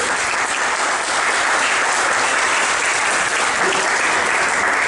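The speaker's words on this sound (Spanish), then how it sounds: "yo sí quiero pedirles a ustedes un aplauso" Loud, dense applause from a gathered crowd at a community meeting about oversight of the Bogotá River in Funza, Cundinamarca, sustained evenly for about five seconds with no talking.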